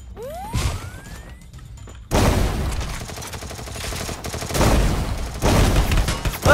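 Rapid gunfire from the mobile battle-royale game Free Fire, a short burst followed by sustained loud volleys of shots layered with impacts and game effects, close and dense with no talking.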